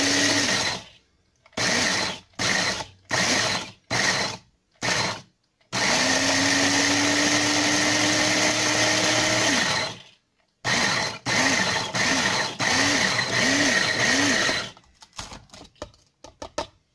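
A blender pulses cheesecake ingredients in short repeated bursts, then runs in a longer steady whir whose pitch bobs as the load shifts, followed by more quick pulses, loud and close with no talking.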